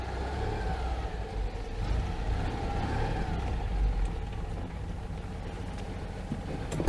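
A Citroen 2CV is heard from inside the car under way, its small engine giving a steady low drone with faint rattles and a sharp knock at the very end, and no talking.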